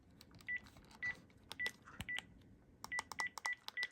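Keypad button presses on a Panasonic KX-TGU432 cordless phone with big premium-feel buttons, a quick series of short crisp beeps each paired with a soft click, irregularly spaced, close and quiet.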